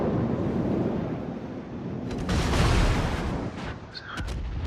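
Heavy naval guns fire shells in a warship battle game, a deep rumbling boom that swells in the middle and fades, with a sharper crack near the end.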